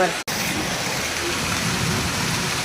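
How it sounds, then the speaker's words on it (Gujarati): Heavy monsoon rain pours steadily in a continuous broadband hiss, briefly cutting out near the start, with a low rumble underneath that may be thunder. "તમે જોઈ શકો છો વરસાદ કેવો ગરજી રહ્યો છે, વીજળી પડે છે, ગાજે છે"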